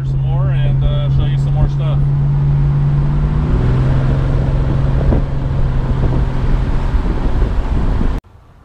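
A 1969 Dodge Dart GT cruises along, its engine a steady low drone that shifts pitch partway through amid wind noise, then cuts off abruptly at the end.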